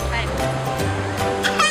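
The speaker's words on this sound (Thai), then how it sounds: "แต่คลื่นมันแรงอ่ะลูก" Strong sea waves wash onto the sand at Bang Saen beach in Thailand, a brief, rushing surge of surf behind the voices of people talking nearby.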